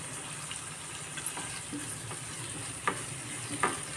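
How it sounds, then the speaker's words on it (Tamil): Tomatoes sauté with added salt in a pan for tawa paneer masala, giving a faint, steady low sizzle with a few soft stirring scrapes and clinks. "நல்லா வதங்கட்டும் இந்த தக்காளி இதெல்லாம் நல்லா வதங்குறதுக்காக இது கொஞ்சம் சால்ட் போட்டுருவோம்"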